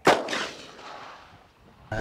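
A single pistol shot fired at a target on an outdoor range gives a sharp loud crack with a decaying echo, followed by the onset of another sharp sound at the end.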